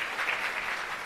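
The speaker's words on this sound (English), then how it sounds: "Let's give him a round of applause" Steady crowd applause at a launch event for technology centres, continuous dense clapping filling the whole moment at moderate loudness with no voices over it.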